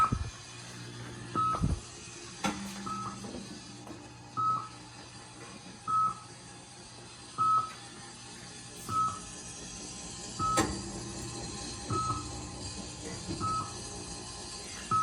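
Restored Midway Sea Raider arcade cabinet running after power-up, with a series of short electronic beeps repeating roughly every one and a half seconds over a steady hum and some faint clicks.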